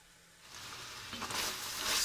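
Meat with diced onions and finely chopped garlic sizzles in a VonShef cast iron roaster, the hissing fry rising from quiet to fairly loud over about two seconds.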